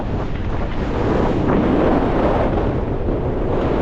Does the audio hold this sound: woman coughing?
no